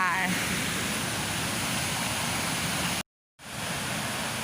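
Siriphop waterfall cascading down forest tiers, a dense, loud, continuous rush of falling water heard up close, with a brief gap of silence near the end.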